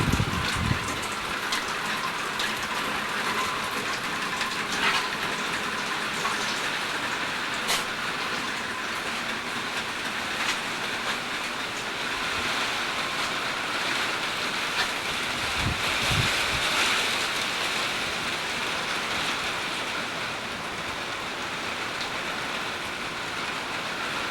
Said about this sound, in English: you can watch the gusts of wind come and blow some of these plants and stuff.